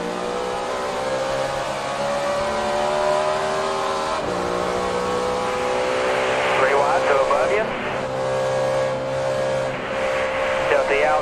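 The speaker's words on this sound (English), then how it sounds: "you could hear him playing with that throttle all the way through one and two" Chevrolet NASCAR race car engine at full racing pitch, the driver modulating the throttle so the harmonic drone rises and dips, loud and close throughout the onboard run with a brief sharper burst late on.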